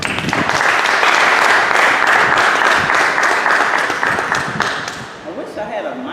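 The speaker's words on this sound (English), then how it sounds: "give her a round of applause." Sustained audience applause from a crowd at a rally against mass incarceration, dense steady clapping for about five seconds before thinning out near the end.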